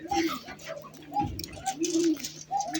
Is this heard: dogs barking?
no